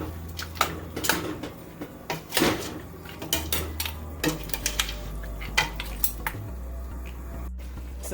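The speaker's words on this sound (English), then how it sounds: "So it's been about 3 minutes and I've been stirring it." Curry goat being stirred in a pot, with repeated metallic spoon scrapes and clinks against the pot over a low steady simmer, close up and fairly busy throughout.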